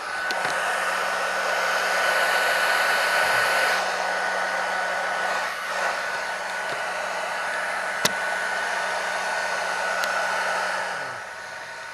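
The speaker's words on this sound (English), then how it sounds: "Now we're going to hit it with the hair dryer to make sure the components are dry" A hair dryer blowing on the components of a Norcold refrigerator unit, a loud, continuous whirring roar with a steady whine that shifts slightly as the airflow moves, plus a few small clicks, no talking.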